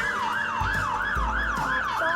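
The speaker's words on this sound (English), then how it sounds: "Siren's on." A fire engine siren wails in a steady, repeating rise and fall, loud and close, with a couple of low thumps beneath it.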